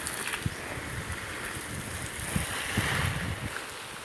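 Gusty wind blows across an outdoor vegetable garden with tomato plants, a continuous rushing buffeting noise with low rumbling thumps against the microphone.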